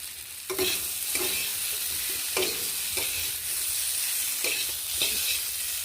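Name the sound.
sautéing fried bamboo shoot and taro in a pan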